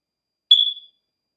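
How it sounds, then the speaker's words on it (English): A smoke detector with its battery removed gives one short, piercing high-pitched chirp that fades quickly, alone in near silence. "I can't believe I took the battery out and it's still beeping"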